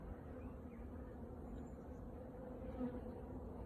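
Honey bees fly around their hives on a warm spring day, making a steady, dense, low buzzing hum that continues evenly throughout.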